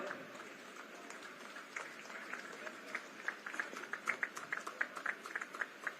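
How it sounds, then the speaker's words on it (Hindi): A crowd at a Home Guard passing-out ceremony attended by the chief minister applauds, distant and fairly faint, the clapping growing into sharper, more distinct claps toward the end. "तालियां बजती रहे"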